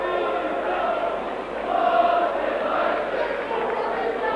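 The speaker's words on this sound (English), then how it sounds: "the crowd at the far side, the Preston fans, are shouting, saying, what's it like to score a goal?" A football stadium crowd of Preston North End fans shouts and chants from the far side during a match against Burnley, a dense distant roar of voices swelling midway.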